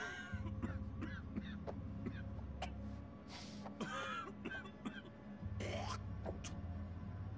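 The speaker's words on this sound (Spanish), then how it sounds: "Esa tos pinta mal." A man coughs in the video game House of Ashes: a few harsh, breathy coughs and gasps break over a low, steady rumbling drone.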